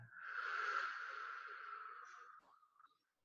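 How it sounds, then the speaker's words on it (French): A single long exhale during a breathing exercise, soft and close, a breathy rush of air that fades away over about two and a half seconds before silence. "Et on expire."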